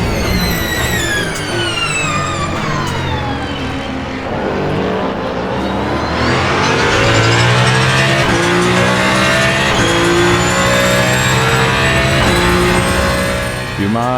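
Race car engine in the Le Mans Ultimate sim racing game, a loud continuous roar rising and falling through gear changes, with other cars around and a voice talking over it throughout.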